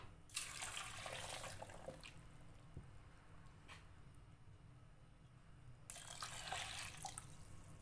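Two cups of water poured onto lemon juice, a steady broadband splash and trickle in two bursts near the start and end with a quieter stretch between, heard alone at close range.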